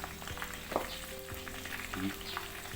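Pork belly frying in oil, a steady close sizzle with scattered crackles and pops and some low hum in the background, with no talking.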